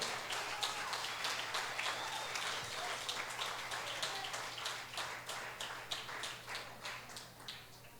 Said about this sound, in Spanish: Si vas a aplaudir, aplaude.